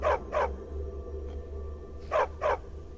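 A dog in the video game Skyrim barks in two pairs of sharp, loud barks separated by a quiet gap, over a low steady game hum.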